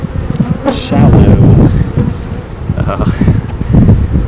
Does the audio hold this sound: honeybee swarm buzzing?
yes